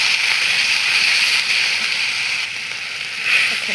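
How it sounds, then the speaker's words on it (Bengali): Water poured into a pan of frying chicken and spices on a clay stove gives a steady, loud steamy hiss that rises again briefly near the end. "এখন আমি পানি দিয়ে দিব।"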